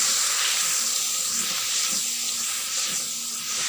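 Chopped onions tipped into hot oil in a home kitchen, giving a loud, steady sizzling hiss that fills the whole stretch without any talking.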